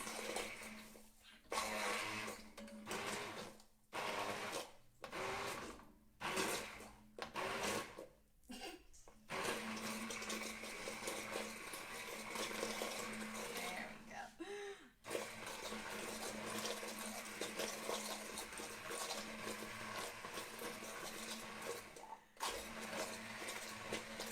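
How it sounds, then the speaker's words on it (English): An immersion blender whirs through butternut squash sauce for mac and cheese, starting in short stop-start bursts and then running as one long steady drone before cutting off near the end, close and loud with no talking. "I prefer to use the immersion blender"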